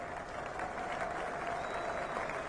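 Steady applause from a cricket crowd at Trent Bridge during an England v India Test match, a continuous, moderately distant wash of clapping with no break across the clip.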